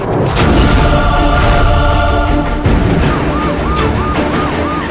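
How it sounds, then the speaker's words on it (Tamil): A loud wailing ambulance siren sweeps up and down continuously over heavy traffic rumble, close and dominant throughout. "அதனே ஆம்புலன்ஸ் சவுண்ட்"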